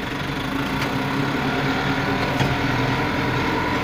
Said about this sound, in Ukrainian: Включаємо прискувач і поїхали